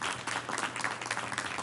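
At a school district board meeting, an audience applauds in a brief, dense burst of clapping that holds steady throughout, fairly close and with no talk.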